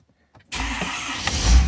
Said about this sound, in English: let's start the truck